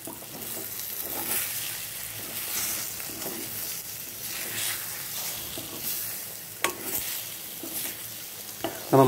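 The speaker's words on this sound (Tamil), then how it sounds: "இப்போ நல்லா மிக்ஸ் பண்ணிக்கலாம்." Egg podimas is stirred in a frying pan, a soft, continuous sizzle with repeated scraping strokes of the spatula and a couple of sharper clicks against the pan, fairly quiet and close.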